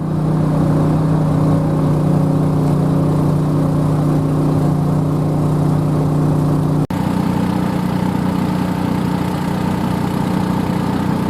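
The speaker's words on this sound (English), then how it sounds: "The truck will drown out the sound." A truck engine runs steadily close by, a loud, droning idle with a constant low hum that continues for about eleven seconds with a brief dip partway through and no voices over it.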